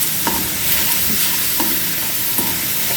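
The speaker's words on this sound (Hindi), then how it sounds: "इसको हम लगातार ऐसे ही चलाएंगे जब तक ये बिल्कुल तली नहीं छोड़ देगा" Fresh coconut barfi mixture with cow's milk cream is stirred steadily in a pan, a spoon scraping in regular strokes about every second over a faint continuous sizzle, close and clear with no talking.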